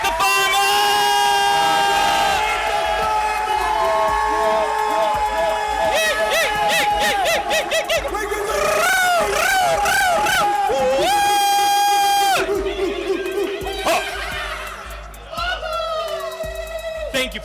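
A crowd at a live outdoor music show in Mandala Springs, Barnardsville, cheers loudly throughout, with whoops, shrieks and yelling voices, building to a big roar before easing off near the end.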